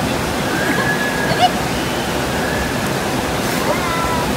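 The strong current at Sabsaban waterfall in Palawan rushes in a steady wash of white water close by, with faint voices now and then in the background.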